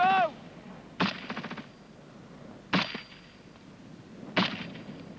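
Gunfire during a military section fire-and-manoeuvre drill: three sharp, loud shot bursts spaced about two seconds apart, each with a short rattling tail, after a brief shouted command at the start.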